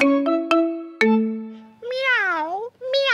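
Three struck musical tones ring out, then a voice imitates a cat with two drawn-out, wavering meows close to the microphone.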